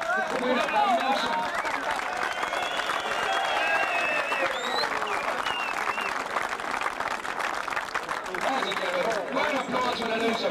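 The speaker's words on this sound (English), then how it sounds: "Round of applause for the loser, please." Steady crowd applause at a 1986 unlicensed boxing event fills the whole stretch, dense clapping with a murmur of voices underneath, loud and continuous.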